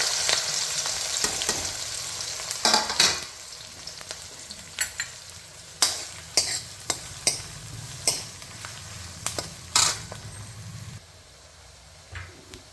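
Garlic, ginger, green chili and onion fry in oil for a pakora-style kadhi, with a crackling sizzle under repeated sharp scrapes and knocks of a spoon stirring in the pan, close and rhythmic.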